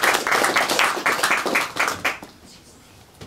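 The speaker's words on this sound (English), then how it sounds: "I hope you'll give him a big round of applause to welcome him here" An audience claps to welcome a speaker to the stage, a burst of many hands that runs strong for about two seconds and then fades quickly into quiet room tone.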